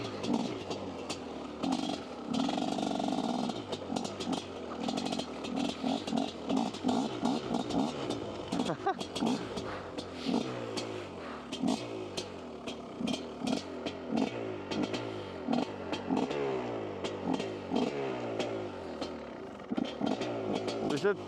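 Dirt bike engine on a snowy ride, struggling to run in the cold: a rough, uneven sputtering idle with irregular pulses and revs, close by, lasting throughout with voices talking over it.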